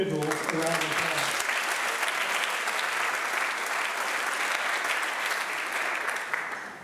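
An audience at a high school athletic awards night applauds with dense, sustained clapping that fills the room and fades slightly at the end, following a brief spoken announcement at the start.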